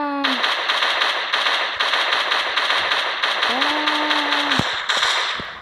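A heavy turret machine gun in a video game fires long, loud, rapid bursts, with short electronic tones sweeping in between the volleys.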